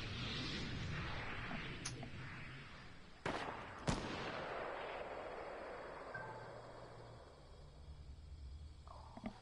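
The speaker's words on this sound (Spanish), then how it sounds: "Están arriba de mí tirando cohetes" Distant booming blasts and a couple of sharp cracks of rocket fire in a PS4 video game over a rumbling explosive wash, faint and echoing, with no talking.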